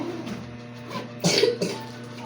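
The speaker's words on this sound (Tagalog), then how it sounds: "Ubo ka pa." A single short cough near the middle, fairly close, with a softer throat sound just after against quiet room background.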